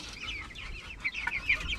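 Native chickens cluck in a backyard pen, a steady chorus of soft, overlapping clucks and chirps close by, with no talking.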